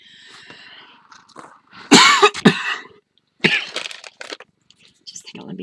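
Several sharp coughs come in separate bursts close to the microphone, with quieter rustling and breathy sounds between them and no clear talk.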